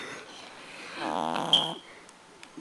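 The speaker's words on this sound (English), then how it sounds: "He's snoring." A sleeping pet gives one slow, rattling snore that swells and fades over about a second, close and fairly soft against a quiet room.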